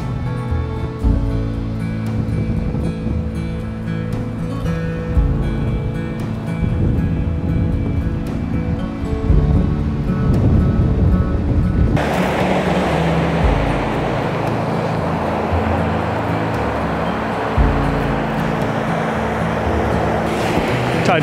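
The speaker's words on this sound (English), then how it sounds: "The tide's really going good right now. Nice surf, nice motion." Incoming-tide surf washes steadily over rocks on a cold March beach at Plum Island, a continuous rushing wash with heavy low rumble, broadening into brighter hissing spray in the second half.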